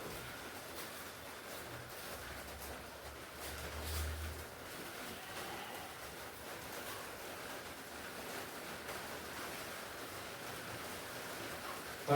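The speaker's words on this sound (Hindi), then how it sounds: "बारिश होने लगी है" Fresh rain begins falling outside as the weather turns cool, a soft, steady hiss of drops that runs evenly throughout at a low level, with no talking.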